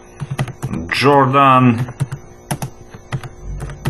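Computer keyboard keys clatter in short irregular bursts alongside a person talking, with a loud voiced stretch in the middle of the typing.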